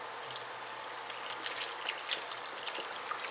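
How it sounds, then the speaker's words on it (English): Beef broth pours into a stew pot with softened onions, a faint steady trickle and splash running throughout at low level, with no voices. "we're going to start adding in our beef broth."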